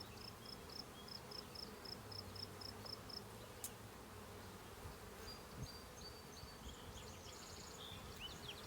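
Honey bees buzz steadily around a hive in southern Maine, a dense, continuous insect hum heard close up and fairly quiet, with faint high chirps or beeps in the background.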